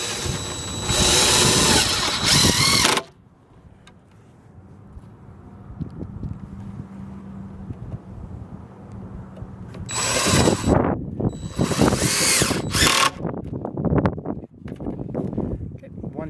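A power drill drives screws into a wooden raised garden bed outdoors, giving loud whirring bursts at the start and again near the end. A quieter stretch with light handling noise falls between them.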